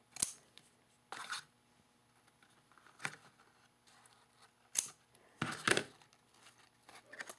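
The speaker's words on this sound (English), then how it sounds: "So now I'm just going to go ahead and trim the edges." Scissors trimming the edges of a handmade craft piece, with several sharp, close snips spaced irregularly over a quiet background.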